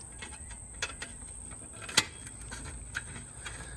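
Trim ring screws are being unscrewed on a Jeep Wrangler headlight, a few faint, scattered metallic clicks and ratchet-like ticks close by, with one sharper snap midway and no talk.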